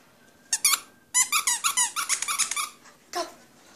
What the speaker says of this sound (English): so we got him this squeaky toy,